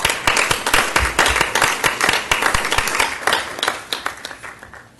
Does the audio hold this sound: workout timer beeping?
no